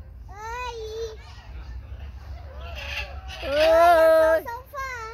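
A parrot at the zoo in Uberlândia gives several tonal, voice-like calls, squawks and chatter, some loud and close, over a steady background murmur.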